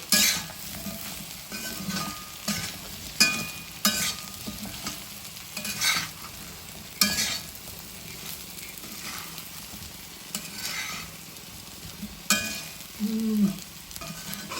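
Colocasia being stir-fried with curry leaves in a ceramic pan: a soft continuous sizzle punctuated by repeated scraping and clacking strokes of a spatula against the pan, close up, with no talking.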